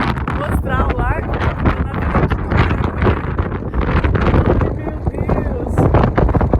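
Strong outdoor wind by a lake buffets a phone microphone with a constant loud, rumbling roar, while a voice talks through the gusts.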